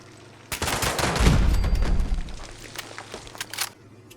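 Ceiling-mounted turrets firing in Fallout 76, with a loud, sudden burst of gunfire that rumbles heavily for about two seconds, then trails off into a few scattered sharp cracks.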